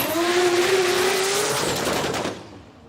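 A nitro funny car launches down the drag strip at Palmyra Dragway, a loud sustained roar with a rising whine and tire noise that fades as it pulls away into the distance.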